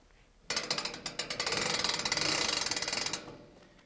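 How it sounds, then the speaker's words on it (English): Ratchet winch on a green hoof trimming chute clicks rapidly and loudly as it lifts a cow's back leg, a dense run of close metallic pawl clicks lasting about three seconds before stopping. "When the winch reaches the bar to this point, it locks"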